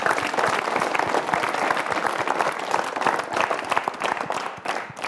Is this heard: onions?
no